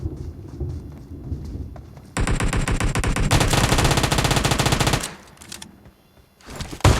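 Close, loud automatic gunfire from the mobile battle game PUBG Mobile runs in long continuous bursts, fades away, then a short rattle returns near the end, with no speech.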